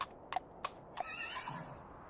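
Hooves clip-clop in a few crisp close strikes, then a horse lets out a loud, high whinny that trails off, with no talk over it.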